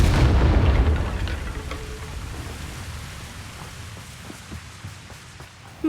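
A Confringo blasting spell goes off in the Hogwarts Legacy video game, a loud booming explosion at the start that rolls into a long rumbling, crackling decay over several seconds.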